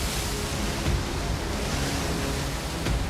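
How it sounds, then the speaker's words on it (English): Ocean waves surging onto a shrinking shore as the tide rushes in, a loud, dense, unbroken roar of surf close by, with no talking. "In the few minutes we've been here, the waves have gotten higher"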